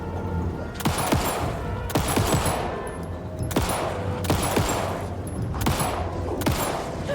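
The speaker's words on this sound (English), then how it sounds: "Oh, this gun sucks." Gunfire from a weapon in the video game Alan Wake II, Night Springs expansion: about six sharp shots fired at a regular pace, each with a booming tail, loud and up close without speech.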